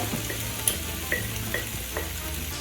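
Steak fajita strips tumbled back into a hot pan sizzle steadily, with a few sharp scraping stirs of a utensil punctuating the continuous frying hiss; close and fairly loud, no voices.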